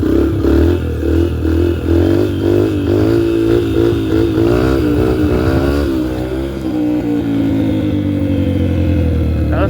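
A dirt bike's engine revs hard and steady through a wheelie on grass, its loud rising and falling roar holding near the rev limit for nearly ten seconds, then easing off.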